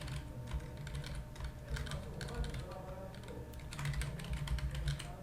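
Typing an email address on a computer keyboard, rapid quiet clicking keystrokes in uneven bursts, close and soft, under a faint background hum.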